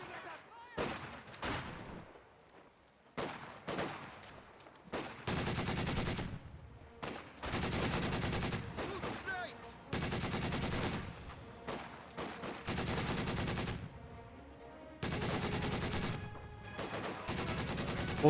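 Bursts of .50 cal machine gun fire from a garrisoned building in the World War II strategy game Company of Heroes 2, loud repeated volleys with short gaps, mixed with other battle gunfire and occasional commentary.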